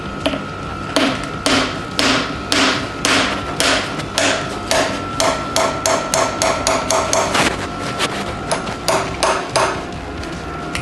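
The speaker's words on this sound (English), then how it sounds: "get like a ball peen hammer, and if you hit it in the center, it'll like flare it out a little bit" Ball peen hammer tapping a rear cam plug into a first-generation Cummins diesel engine, a long run of sharp metallic strikes in a steady rhythm, close and loud with no talk.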